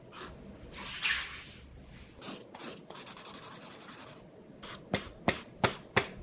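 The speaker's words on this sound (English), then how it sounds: "First, I'll draw the layout completely out of scale." A pencil scratches across paper as a floor layout is sketched by hand, with continuous rubbing strokes, a louder scrape near the start, and then several sharp taps and short strokes close by.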